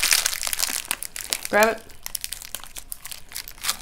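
A hard plastic snack pack wrapper crinkles sharply as it is torn open, one short loud burst amid scattered rustling, with people talking nearby.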